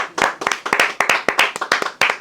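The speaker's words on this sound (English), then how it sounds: "Yo, can I get a round of applause, y'all?" A live audience claps in sharp, uneven bursts, about a dozen distinct hand strikes across two seconds, close and fairly loud, with no talking over it.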